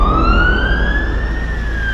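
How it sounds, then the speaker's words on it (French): Police car sirens wail steadily on a highway at night, a loud continuous rising and falling tone with several overlapping sirens over a low engine rumble, no talk. "6 voitures sont déployées sur l'autoroute, dont les sirènes crachent un aboiement strident dans la nuit."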